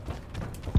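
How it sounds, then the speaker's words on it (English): Quick footsteps from Call of Duty Black Ops 4 gameplay, a short run of soft thudding steps over game background noise, ending with a heavier thump. "I knew you were coming behind. I heard your footsteps"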